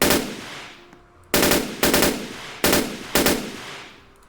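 Guns firing in a Roblox game, a sustained automatic burst followed by four sharp gunshots at roughly half-second intervals, each with a decaying echo, loud and without voices.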